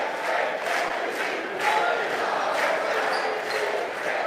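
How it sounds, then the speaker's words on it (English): A large Auburn basketball home crowd cheers and roars continuously at an arena game, a dense, loud wash of voices that stays steady throughout. "Listen to the Auburn crowd"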